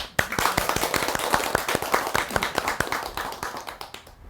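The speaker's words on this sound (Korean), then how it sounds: "여러분 박수." Audience at a Buddhist dharma talk applauding, a steady stream of sharp individual claps from a modest crowd that holds through and then tapers off at the end.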